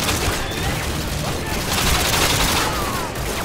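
Dense rapid gunfire in Call of Duty 4: Modern Warfare 2, a loud continuous fusillade of overlapping shots and bursts filling the whole stretch with no pauses.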